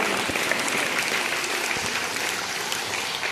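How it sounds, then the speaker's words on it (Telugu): A crowd claps together in sustained applause for teachers at a stage event, a dense, steady wash of hand claps filling the room with no talking over it. "అందరూ చేతులు కొట్టండి చప్పట్లు కొట్టండి"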